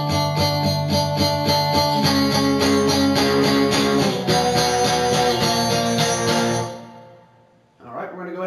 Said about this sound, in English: Alright, so the second part of the pre-chorus sounds like this.